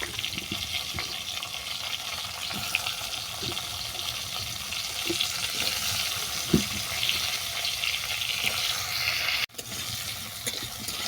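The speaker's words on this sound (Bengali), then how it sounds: "এরপর আলুটাকে তুলে দিচ্ছি" Potatoes frying in hot oil after a dry red chilli tempering, in a dish of ridge gourd with prawns; a loud, steady, close sizzle runs throughout with small crackles and one brief break.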